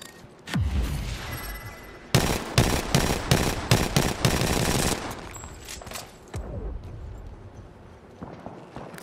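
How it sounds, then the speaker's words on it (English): Bursts of automatic gunfire from an Apex Legends match, several rapid volleys crackling loud and close in the middle, with scattered shots before and after and faint game ambience between them. "They're shooting at somebody."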